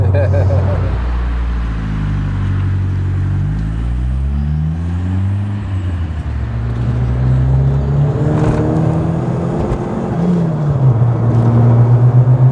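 A 34-year-old Series 2 Ford Escort RS Turbo engine revs up and down repeatedly nearby, pitch rising and falling, with people talking over it.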